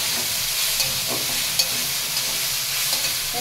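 Dheki shak fern greens sizzle steadily in a hot pan, with a few soft knocks and scrapes as they are stirred; the frying stays even and close throughout with no voices.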